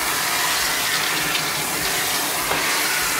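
Bath water running steadily while a poodle is rinsed, a constant close rushing splash with no pauses and no voices.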